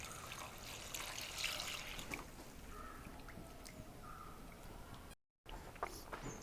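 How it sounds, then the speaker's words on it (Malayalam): Water used to rinse a mixer jar is poured into ground masala for a Goan fish vindaloo curry, making a steady, soft trickling splash that runs continuously and briefly cuts out near the end. "മിക്സി കഴുകിയ ഒരു 3 കപ്പ് വെള്ളം ഇതിലേക്ക് ഒഴിക്കുക."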